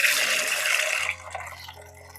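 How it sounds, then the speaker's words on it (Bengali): Water pours or sprays onto plants in a steady hiss for about a second, then cuts off, leaving quiet room tone. "আমি গাছগুলোকে একটু জল দিয়ে নিই"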